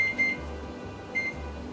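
A kitchen oven timer beeping twice, short high electronic tones spaced about a second apart over a low steady hum, with no talking.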